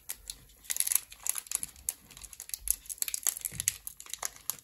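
Foil wrapper of a Pokemon Evolutions card pack crinkles and tears close up, a quiet run of sharp irregular crackles and rustles with no talking.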